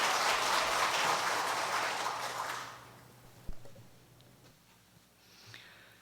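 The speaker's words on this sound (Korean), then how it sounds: "환영의 큰 박수로 맞아주시면 좋겠습니다" A church congregation applauds to welcome a new viola accompanist for the choir, a dense burst of many clapping hands lasting about three seconds before fading into a quiet room with a single thump.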